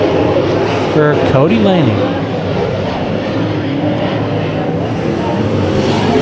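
Late model race cars roar around Bakersfield Speedway in a steady, loud engine drone, with a car's pitch sweeping past up close, all under continuous excited commentary from an announcer.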